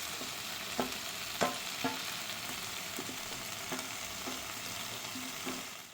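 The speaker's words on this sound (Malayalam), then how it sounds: "നമുക്ക് നന്നായി ഇളക്കി കൊടുക്കാം." Food in a frying pan sizzles steadily while a utensil stirs it, leaving a handful of distinct scraping knocks at irregular intervals over the continuous hiss.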